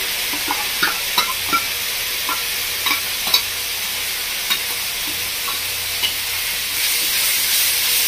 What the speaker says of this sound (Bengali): চিংড়ি মাছ বাটাটা দিয়ে ভালো করে কষিয়ে নেবো।